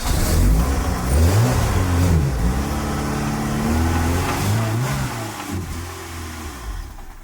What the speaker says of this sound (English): Well, I got it to start, but now it's surging really bad.